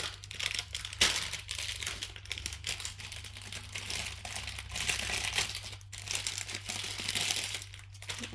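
Paper cash envelopes being handled for budget stuffing, with close crinkling and rustling in irregular bursts and a sharper crackle near the start, alone and without speech.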